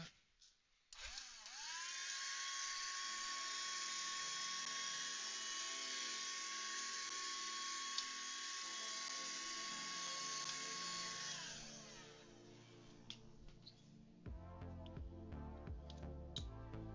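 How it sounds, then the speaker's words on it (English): A hand vacuum starts up and runs with a steady high whine for about ten seconds, cleaning out a game console during an electronics repair, then winds down, followed by clattering handling noises. "let's get the hand vac. Let's do light vacuuming."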